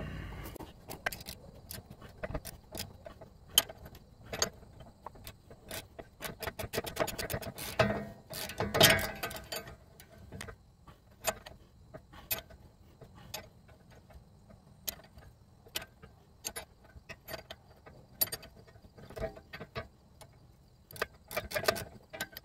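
A 10 mm socket ratchet turns a spinning ball joint stud nut on a 2005 Dodge Durango, clicking in close, quiet rapid runs of pawl ticks with short pauses between strokes.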